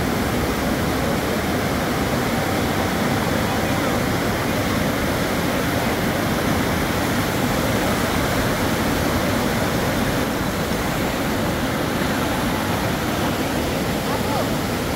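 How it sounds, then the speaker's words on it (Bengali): Powerful river water rushing through the open Bhuapur sluice gate, a dense, loud, continuous roar of churning flow with no breaks, and a voice speaking over it. "ধীরে ধীরে গতি আরো বাড়তেছে, পানির গতি দেখেন কি পরিমাণ বাড়তেছে"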